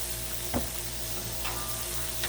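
Plain vegetable oil sizzling on a Blackstone griddle outdoors, a steady hiss over a low background hum with a few brief scraping clicks.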